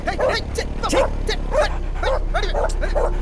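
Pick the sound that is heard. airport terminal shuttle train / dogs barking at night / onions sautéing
dogs barking at night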